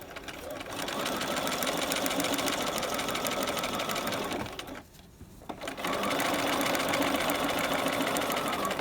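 A sewing machine stitches a piping seam on a V-neck garment, a rapid steady mechanical whirring that runs, stops briefly, then resumes, with a voice talking over it.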